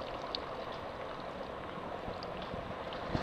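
Water running off a 1986 Chevrolet Camaro during a leak test, a steady, close rush of flowing and trickling water draining toward a drain hole, with no voices.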